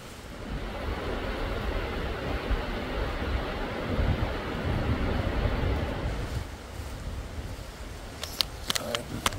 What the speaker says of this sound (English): Could hear the waterfall rushing.